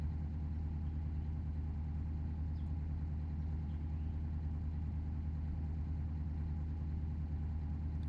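Steady low idle of a Civetta Competizione car engine in BeamNG.drive, a constant droning hum with even pulsing and no revving, quiet and unchanging throughout.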